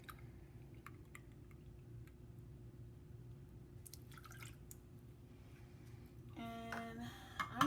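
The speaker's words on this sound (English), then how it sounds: "the first thing we're going to do is add a half a cup of the coconut milk" Coconut milk pours into a pot in a quiet kitchen, with soft drips and a gentle liquid trickle that swells near the end into a fuller pour and splash.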